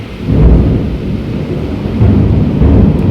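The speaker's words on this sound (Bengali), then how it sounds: "দেখছো কি পরিমাণ ঠাডা পড়তেছে" Thunder rumbles through a downpour, a heavy low roar that surges at the start and again near the end while rain hisses continuously underneath, no one speaking.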